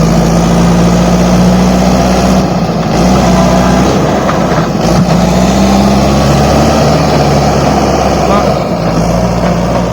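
A loud, steady tractor engine drones and labours continuously, close by, straining while stuck in mud in a village, with voices faintly mixed in.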